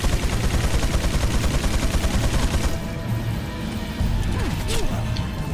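Rapid gunfire from the Resident Evil 4 video game, a dense loud burst of shots through the first half, then thinner impacts and game effects continuing over steady background sound.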